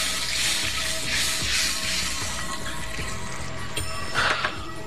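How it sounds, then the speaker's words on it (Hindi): Water pours into chilli sauce cooking in a pan, making a steady hissing, splashing wash. A brief brighter burst comes near the end, and no one speaks. "हमने पानी ऐड करना है।"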